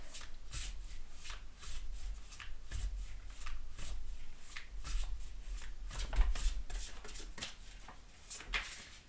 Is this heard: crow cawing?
no